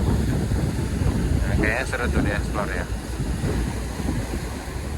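Aboard the riverboat Noor Fitri Indah sailing up the Mahakam River, a constant wind-blown rush and low engine-and-water rumble surrounds the listener while a person speaks briefly over it.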